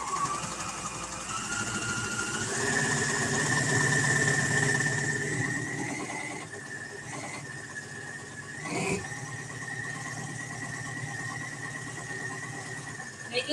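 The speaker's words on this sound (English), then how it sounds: "And then we're going to stitch. Stitch length down a little bit." An overlocker sewing machine runs steadily while stitching a rolled hem on fabric, a close whirring motor hum with a high whine that shifts in pitch and a brief clunk midway.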